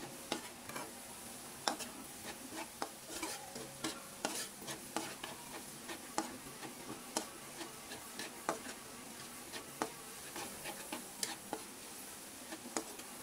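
Garlic stirred and fried in a pan until golden brown, a faint sizzle under quick, regular scrapes and ticks of a spoon against the pan, no voices.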